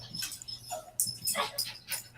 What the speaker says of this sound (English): The dog seems happy though.